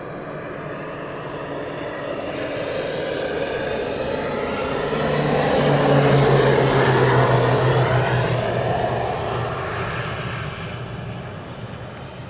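A BAE Hawk T2 or Texan T1 military training aircraft comes in for a formation landing at RAF Valley, a sustained engine roar swelling to a peak mid-way and then easing off at a distance.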